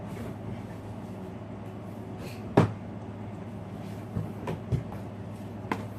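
Items shift and knock inside a drawer while someone rummages for a coloring book, a few scattered thumps and clatters over a quiet background hum, close by.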